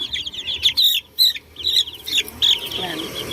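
Healthy young chicks peep in quick, high, repeated bursts close by, several overlapping calls with brief pauses between them.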